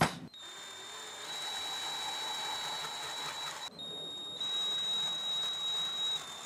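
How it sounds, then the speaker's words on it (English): A drill whines steadily with a high-pitched tone, briefly stopping and then starting again as it bores a hole into aluminum. "I'm going to pre-drill a hole into this aluminum first."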